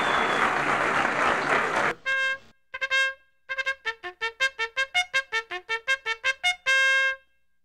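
Short burst of applause for Indian Airlines pilots and crew, then it cuts off and a bugle plays a series of bright, separate notes in a quick rhythmic call, ending on one longer note.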